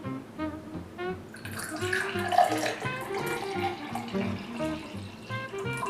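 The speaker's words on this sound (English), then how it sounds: "so we're gonna pour ourselves some grape juice" Grape juice is poured from a bottle into a glass in a steady, close, gurgling stream lasting several seconds, with faint background voices.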